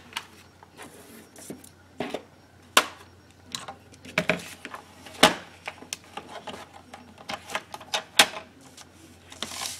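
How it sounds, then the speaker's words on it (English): Paper trimmer or scissors cutting a long paper strip for a mini album, a series of uneven crisp snips and clicks with small taps and handling rustles between them, close and alone. "I'm going to want this longest strip, so we'll cut that first."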